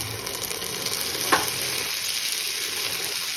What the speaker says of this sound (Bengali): ভাজার পরে আমি এতে দিচ্ছি 1 টেবিল চা চামচ আদা বাটা,